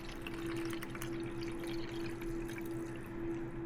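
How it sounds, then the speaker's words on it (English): Tap water runs steadily into a pot for homemade L. reuteri yogurt, a continuous close filling hiss with a faint steady hum underneath, no talking. "So I'm putting enough water in here to where it's going to be"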